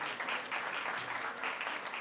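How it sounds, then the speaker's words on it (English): An audience at a school annual day applauds students, a continuous wash of many hands clapping, fairly soft and even throughout with no voices over it. "A huge round of applause for our dear students"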